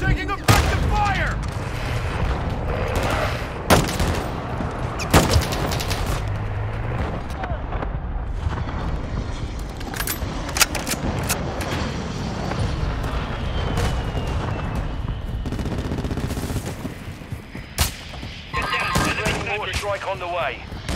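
Dense gunfire in Call of Duty Modern Warfare 2 multiplayer, rapid automatic bursts and sharp single shots crackling almost nonstop with booming impacts, while voices talk over the din.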